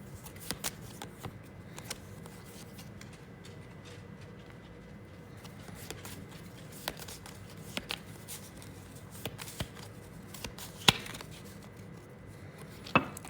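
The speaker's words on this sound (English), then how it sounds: "Then blue, I got to shuffle." Playing cards are shuffled during a solo Legacies board game session, with soft riffling and rapid papery patters broken by sharp taps and clacks in a quiet room.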